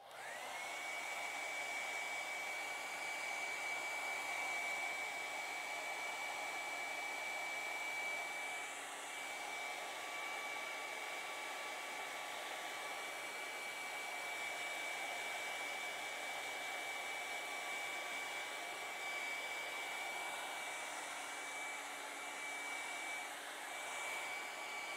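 A hair dryer runs on acrylic paint, one loud steady whooshing airflow with a constant whine that holds for the whole stretch with no talk.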